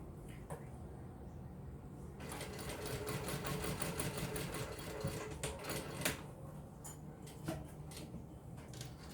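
A sewing machine stitches steadily through four layers of the same wristlet strap material, a rapid mechanical clatter running for several seconds with light handling sounds before and after.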